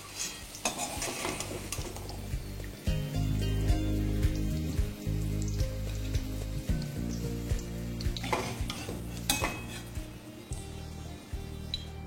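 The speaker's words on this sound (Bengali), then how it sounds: "ফ্লেমটাকে মিডিয়াম রেখে আলুটাকে একটু লাল লাল করে ভেজে নিন" Potatoes frying in oil over a medium flame, a steady sizzle broken by repeated clinks and scrapes of a utensil stirring against the pan.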